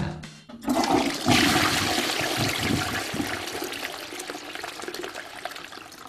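A toilet flushes close by, a loud rushing gush of water that slowly drains away into a steady trickle, with no voices.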